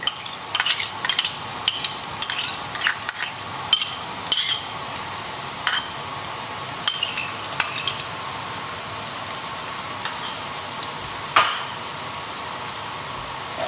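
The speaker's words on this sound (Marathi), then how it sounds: "जिंजर आनी गार्लिक न्हू बरी फ्राय करूया आमी ऑनियन जाय." Chopped ginger and garlic sauté with golden onions in a pan for Goan chicken biryani, sizzling steadily under sharp, repeated clinks and scrapes of a spatula stirring close by.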